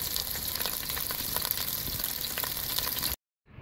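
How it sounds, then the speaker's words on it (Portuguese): Onion fries in an iron pan over a hunting camp meal, a loud, steady sizzle and crackle close up for about three seconds before cutting off abruptly. "panela de ferro fritando a cebola"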